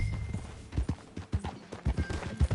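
Horse hooves clip-clopping in Red Dead Redemption 2, a steady close rhythmic trot of repeated thuds with faint ambient background.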